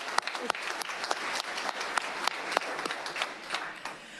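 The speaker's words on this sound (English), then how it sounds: "let's clap it up for Essence regardless" Dense audience applause at a public school board meeting in Rockford, honoring a student, with many overlapping hand claps, steady and moderately loud, and no voices over it.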